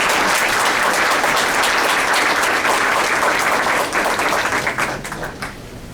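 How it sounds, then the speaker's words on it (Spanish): An audience at a conference on the presumption of innocence in the accusatory criminal system applauds loudly and densely for a speaker. The clapping stays strong, then thins and fades near the end. "lo recibes con un fuerte aplauso"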